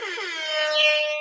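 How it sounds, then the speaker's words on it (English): A single loud air horn blast sounds alone, a brassy sustained tone that swells slightly before cutting off. "Big shout out and air horn."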